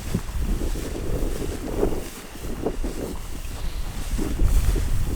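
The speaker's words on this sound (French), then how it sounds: "je pense que le vent va s'entendre dans le micro, là, il se met à remonter encore." Gusty wind buffets an outdoor microphone in an abandoned Saskatchewan ghost town, a steady low rumble with rising and falling surges, loudest near the end, with no voices.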